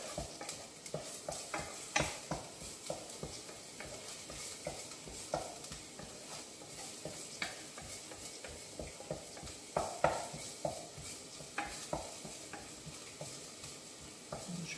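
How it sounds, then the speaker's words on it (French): Shallot sautéing in a pan while being stirred, a steady close sizzle broken by frequent scraping and tapping of the utensil against the pan, with no talk over it. "Donc on fait revenir notre échalote."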